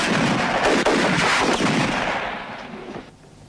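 A loud burst of gunfire from a dubbed western film rolls through a dense, reverberant action soundtrack, with repeated heavy shots blending together before the noise gradually tapers off over several seconds.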